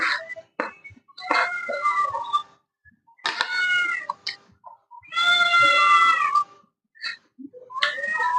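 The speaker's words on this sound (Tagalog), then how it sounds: "Yung alaga ko pong pusa." Pet cat meowing loudly and close, several drawn-out insistent meows and shorter chirps separated by brief silences, alone without talk.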